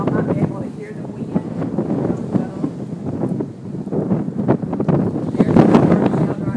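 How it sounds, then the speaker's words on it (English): Strong wind gusting outdoors in a yard during a tornado in Roanoke, Texas, a continuous broadband rush buffeting the microphone, steady throughout and swelling louder near the end. "Y'all might be able to hear the wind."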